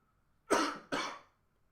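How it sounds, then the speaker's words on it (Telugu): A lingering cough comes as two sharp, harsh bursts in quick succession, close to the microphone in a quiet room, then fades to silence. "సారీ అండి, ఇంకా నాకు కాఫ్ అయితే తగ్గలేదు"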